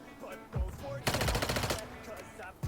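A burst of rapid automatic gunfire in Call of Duty: Warzone Mobile, loud and close for under a second, with quieter single thuds and game noise before and after.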